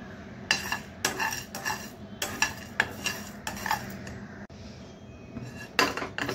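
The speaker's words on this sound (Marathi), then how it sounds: "आता हे आपण एका पॅन मध्ये व्यवस्थित भाजून घेऊया।" Fenugreek seeds and black pepper dry-roast in a pan over low to medium flame, a spoon scraping and clinking against the metal in repeated stirring strokes, close and clear, with a faint background hiss.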